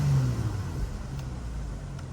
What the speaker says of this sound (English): This car has reached its top speed of 136 miles an hour.